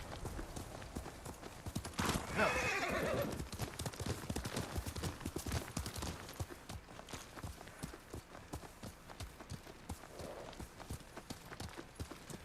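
Steady clip-clop of horse hooves in Ghost of Tsushima, close and continuous, with a louder, busier stretch near the start before settling into an even plodding rhythm.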